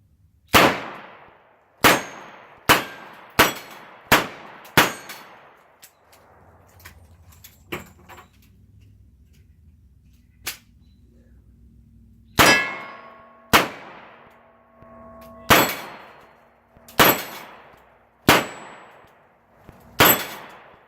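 A revolver loaded with moon clips fires repeatedly at bowling pins, each sharp shot followed by a ringing metallic clang, in quick bursts with a pause in the middle while the shooter reloads.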